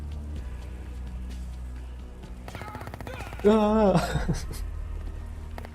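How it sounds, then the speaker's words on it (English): Steady rain patters in the Project I.G.I. game, a constant wash of drops beneath rapid in-game clicks, while a voice briefly cries out partway through. "It's raining."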